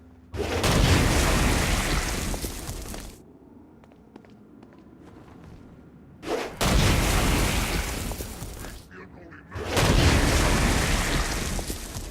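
Three heavy blasts go off in the video game Saints Row: Gat out of Hell, each a loud, booming burst lasting a few seconds. Quieter rumbling and movement fill the gaps between them.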